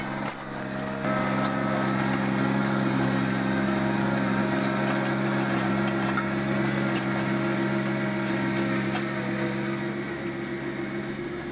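Tractor engine droning steadily while pulling a Land Pride SP2060 soil pulverizer across a dike for seeding, a continuous loud close rumble with a steady hum and no talk.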